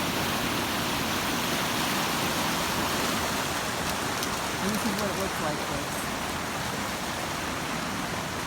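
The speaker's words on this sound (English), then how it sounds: "It's been torrential rain here." Torrential rain pours over a flooding creek in eastern Kentucky in a dense, unbroken roaring hiss close by. Someone speaks briefly over it partway through.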